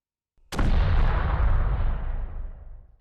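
A McMillan TAC 50 R2 rifle fires one heavy, booming shot close by, the blast tailing off into a long rumbling echo over a few seconds.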